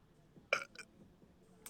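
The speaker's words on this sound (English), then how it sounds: "lemon squash stuff makes you burp so much" A single short, sharp burp after drinking lemon squash, followed by a smaller second burp and a faint one near the end, close and fairly quiet, with no talk.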